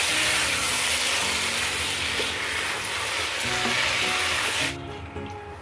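Tomatoes frying in a pot, giving off a loud, dense sizzle with soft stirring clinks, then the hiss drops off sharply near the end and only quieter cooking sounds remain.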